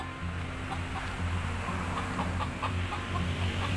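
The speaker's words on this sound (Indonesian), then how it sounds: "Itu ada ayamnya di atas." A chicken clucks with soft, scattered calls over a steady low background hum, moderately distant with no talking.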